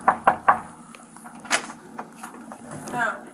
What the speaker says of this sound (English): The officers arrived at the apartment building and knocked on Mr. Braden and Ms. Odom's door.